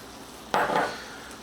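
Ground venison browning in a pan as a spice mixture is stirred in for tacos, heard as one sudden burst of sizzling and scraping that slowly fades under a steady low hiss.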